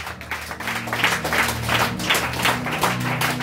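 A church congregation applauding and cheering in acclamation of the Lord during a sermon on marriage, with steady dense clapping mixed with voices and a low musical hum underneath, continuous and fairly loud throughout.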